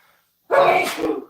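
A single loud, close sneeze bursts out after a moment of silence, sharp at the start and trailing off quickly.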